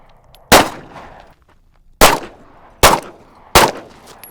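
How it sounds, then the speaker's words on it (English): Four sharp handgun shots ring out during low-light firearms training, each a loud crack with a short ringing decay, fired at uneven intervals with quiet gaps between. "the bang coming out of the end of the muzzle"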